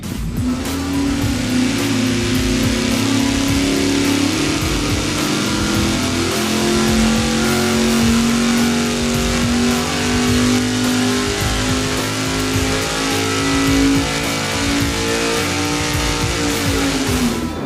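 Engine running steady and loud on a dyno during a budget fuel pump test, a continuous droning roar with a slowly shifting pitch and no pauses, filling the whole stretch without any talk.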